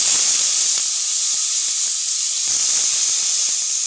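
Beef hitting a hot pan for a tagine browning sets off a loud, steady sizzle with a broad hiss that holds throughout, with a few small crackles and pops.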